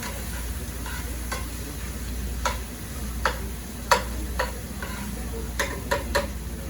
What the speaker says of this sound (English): I really just wanted to soften those onions a little bit